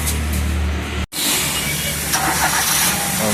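A car with yellow-painted brake calipers runs its engine loudly and steadily while being moved, a brief cut breaking the drone before it resumes and continues to the end.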